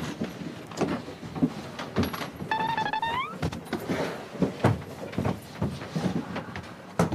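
An elevator door slides amid a busy, noisy space, with a short rising mechanical whine and scattered knocks and rumbles around it, fairly faint.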